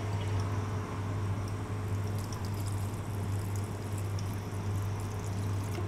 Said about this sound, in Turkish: Karıştırıp lahanalarımızın üzerine döküyoruz.